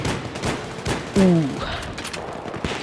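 Gunfire from a SCAR-H battle rifle in Battlefield 3, several sharp shots spread unevenly through the stretch, loud and close, with a brief tonal sweep partway through.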